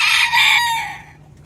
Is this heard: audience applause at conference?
no